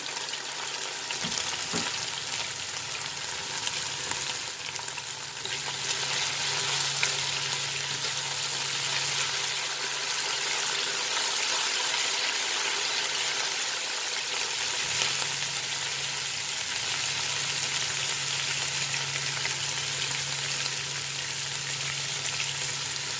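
Cumin seeds fry in hot oil in a pan for a spinach paneer dish, giving a steady, close hiss of sizzling that runs the whole time with a faint low hum underneath and no talking.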